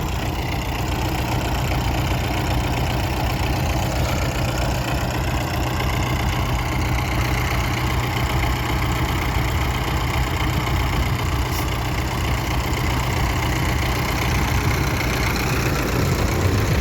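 A tractor engine idling nearby, a loud, steady low rumble with a continuous mechanical drone and faint knocking, unchanging throughout.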